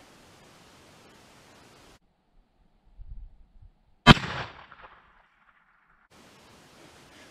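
A single sharp rifle shot after muzzle crown repair, loud and close, with a brief echoing tail outdoors, preceded by faint handling noises.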